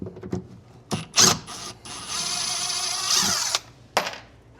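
A power drill backs screws out of shelving supports while a closet office is torn down, with several short whirring bursts and then one longer sustained whine, close and loud.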